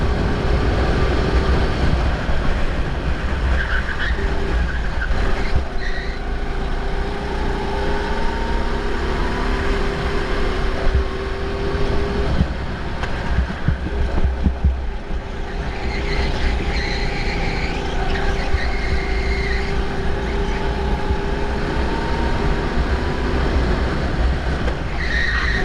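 Racing karts on a track with engines droning and tires skidding through corners, a steady loud mix of motor whine and scrubbing rubber throughout.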